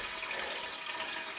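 Water pours steadily into a cooking pot for chicken soup made from scratch, a continuous close hiss of filling with no talk.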